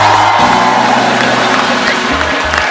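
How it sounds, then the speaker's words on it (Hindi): Studio audience at a comedy talk show welcoming wrestlers Geeta and Babita Phogat, a loud, steady wash of crowd applause and cheering filling the whole moment, with a low musical tone underneath. "जोरदार तालियों से स्वागत होना चाहिए।"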